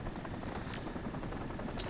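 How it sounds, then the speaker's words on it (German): A helicopter drones continuously nearby in the video game Crysis, a dense steady rotor roar with faint pulsing that stays loud and unbroken throughout. "Ich höre die ganze Zeit einen Heli,"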